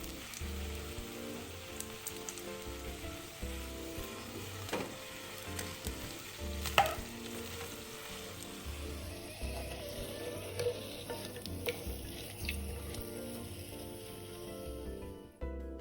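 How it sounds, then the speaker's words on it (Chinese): Chinese chives kueh pan-fry in oil until golden and crisp, a soft, steady sizzle with light popping crackles and an occasional stronger spatter, fairly quiet and free of speech. "煎至底部金黃酥脆，翻面後繼續煎至兩面金黃"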